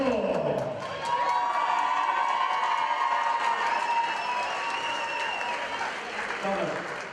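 A large crowd at a Thor versus Thomas event cheers and claps loudly and continuously, a dense wash of applause with shouts rising over it.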